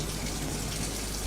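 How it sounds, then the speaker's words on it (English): Running water gushes steadily from a tap as a whisk is rinsed, a brief, even splashing hiss close by. "I'm just cleaning my whisk over here."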